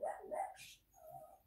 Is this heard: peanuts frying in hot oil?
no